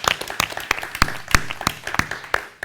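Round of applause at the close of a light-hearted club TV episode, with a few people clapping irregularly, the claps sharp and close over a low background hum, fading out after under three seconds.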